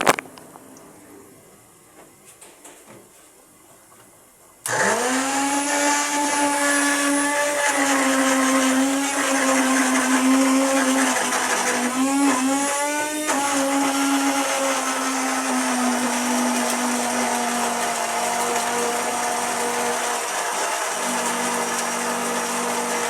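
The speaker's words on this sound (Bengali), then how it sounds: "আমি এটারে এখন গ্রাইন্ড করব।" Electric spice grinder whirring steadily at high speed for about eighteen seconds after switching on, its motor pitch dipping briefly as the spices shift, loud and close with no talk.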